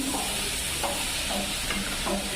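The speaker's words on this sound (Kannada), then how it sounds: "ಮೀಡಿಯಮ್ ಸೈಜ್ ಎರಡು ಟೊಮೆಟೊನ ಹಾಕ್ಕೊಳ್ತಾ ಇದ್ದೀನಿ ಅದನ್ನು ಚೆನ್ನಾಗಿ ಫ್ರೈ ಮಾಡ್ಕೊಳ್ತೀನಿ" Two medium-size chopped tomatoes fry in a pan, giving a close, steady sizzle and hiss with faint stirring scrapes, uninterrupted by speech.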